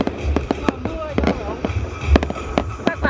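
Rapid sharp New Year firework bangs and crackles in Yen Bai, Vietnam, many sharp bursts close together, loud and near, with people talking and exclaiming underneath.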